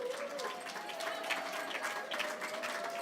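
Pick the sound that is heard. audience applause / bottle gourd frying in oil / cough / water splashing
audience applause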